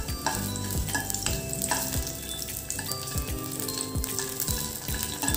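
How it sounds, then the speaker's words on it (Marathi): Finely chopped green chillies sautéed in about a spoonful of oil in a wok, a continuous loud sizzle and crackle with repeated scraping stirs from a spatula throughout. "मिरच्या थोड्याशा आपण तेलामध्ये परतून घेणार आहोत।"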